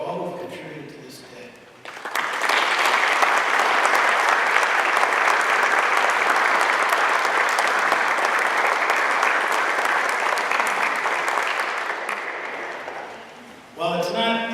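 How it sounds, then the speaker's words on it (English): A Veterans Day ceremony crowd breaks into sustained, steady applause that swells quickly and holds loud and dense for about ten seconds, then tapers slightly before a brief renewed burst. "Please join me for a round of applause for all who have contributed to this day."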